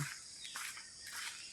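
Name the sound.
birds chirping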